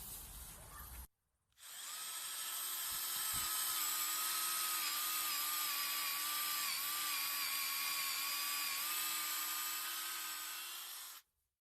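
A Parkside X20V cordless impact drill bores 4.5 cm into a fir board, whining in one steady high-pitched run of about ten seconds at close range, starting and stopping abruptly.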